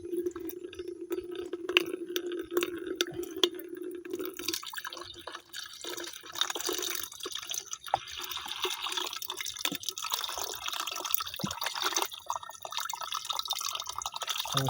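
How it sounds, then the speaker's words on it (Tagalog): Water draining and dripping from a batch of fermented seaweed fertilizer, a continuous splashing trickle that runs steadily throughout, close up with no talking. "pag tinanggal natin yung tubig, gagamitin natin yan sa pagdidilig ng nyug"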